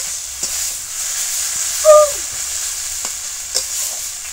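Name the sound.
potato and brinjal egg chorchori frying and being stirred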